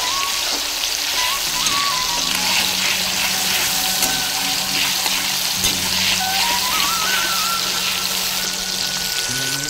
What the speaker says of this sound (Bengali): এবার আমি ভালো করে নেড়ে দেবো, কারণ যেন টমেটোতে লবণ দিলে টমেটো তাড়াতাড়ি সেদ্ধ হয়ে যায়